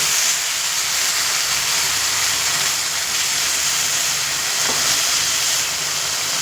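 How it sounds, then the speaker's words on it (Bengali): Water poured onto lentils fried reddish in oil, a loud, steady broadband hiss and sizzle that fills the whole span close up, with no voices. "দেখুন ডাল কিন্তু একটু লাল করে ভেজে নিয়েছি এবার এখানে দিয়ে দেব জল"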